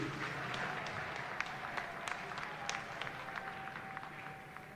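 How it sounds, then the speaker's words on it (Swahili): Mourners at Cardinal Pengo's funeral applauding, a continuous spread of many hands clapping with sharper individual claps standing out, moderately loud and steady. "Tumpigie makofi"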